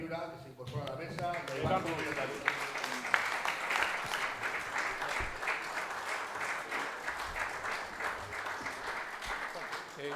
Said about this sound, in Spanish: vamos a darle un aplauso y una bienvenida